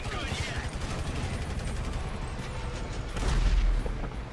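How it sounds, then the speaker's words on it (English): Machine gun fire in Grand Theft Auto V rattles in rapid continuous bursts over a low rumbling game background, swelling louder toward the end, with voices talking over it. "Foiled by a machine gun."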